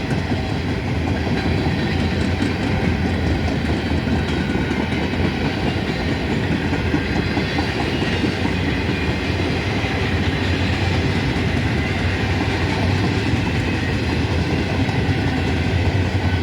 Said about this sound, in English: we got an empty container train, piggyback train, pig train coming through here